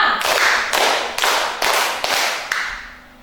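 Schoolchildren in a classroom clap together in a short run of loud, evenly spaced group claps, each a sharp burst close by, fading to quiet at the end.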